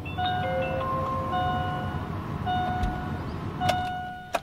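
With the ignition switched on in a diesel car, a faint electric whirring hum with thin whining tones runs for a few seconds, breaks off and starts again, with a soft click near the end.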